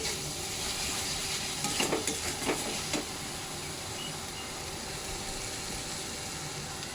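Spices fry in oil for a prawn malai curry with a soft continuous sizzle and a few sharp stirring clinks near the middle. Heard close up with no speech.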